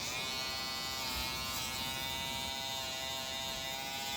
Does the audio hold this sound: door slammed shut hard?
no